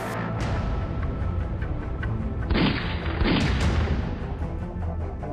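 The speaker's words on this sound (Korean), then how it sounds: "총성이 울렸습니다." Gunshots fired by mounted police toward a jeering crowd outside a police station during a historical Korean street protest: several sharp, loud cracks break through a dense, continuous rumble, with a brighter, heavier burst near the middle.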